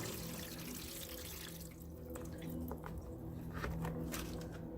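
Water is poured onto trays of broccoli and radish microgreens, a steady close trickle and splash lasting throughout with small drips, and no talking.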